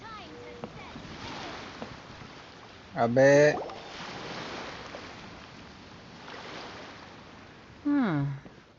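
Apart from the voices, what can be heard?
ocean waves in the video game Genshin Impact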